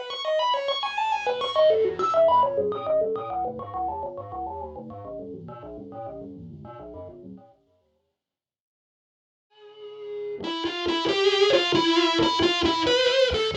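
EarthQuaker Devices Arp-Odyssey arpeggiator pedal on electric guitar: rapid, sequenced synth-like note patterns cascading over chords, a brief silence, then a brighter, dense stepping arpeggio returning loud and alone.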